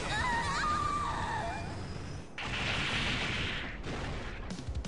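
Gunfire rings out in the Guilty Gear Xrd fighting game as a dense volley of loud, close shots. Whistling, sweeping effects sit over the start, and a brief gap breaks the middle before another harsh burst.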